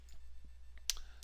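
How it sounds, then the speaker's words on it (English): A single computer mouse click while working in an Excel spreadsheet, one short crisp tick near the middle, fairly quiet against a faint background hum, with no talking. "I'll simply click OK"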